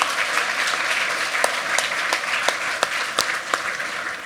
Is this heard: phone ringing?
no